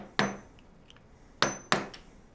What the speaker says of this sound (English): We'll probably use a screwdriver or a punch and a hammer.